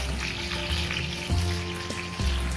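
Chital fish belly pieces frying in hot oil in a covered pan, a continuous low sizzle with a few soft knocks and bumps, steady and close, with no voices.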